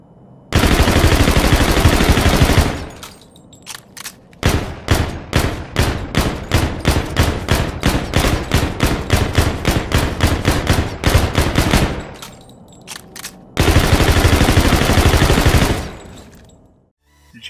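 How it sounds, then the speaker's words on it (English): The HVR submachine gun in Call of Duty: Infinite Warfare fires loud, close bursts: a long continuous spray, then a rapid string of separate shots, then another sustained burst, with no talking. "That was the HVR, which is a submachine gun"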